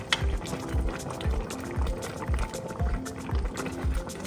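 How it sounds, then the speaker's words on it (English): Sinigang soup with dissolved sinigang mix simmering in a pot, bubbles popping in a steady, regular rhythm over a soft liquid burble, close and moderately loud. "let it simmer like 1 minute just to dissolve the sinigang mix"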